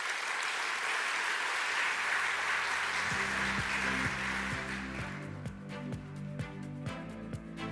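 A large audience at a business investment conference in Jamaica claps in a dense, sustained round of applause. It thins into looser individual claps as low, rhythmic music comes in.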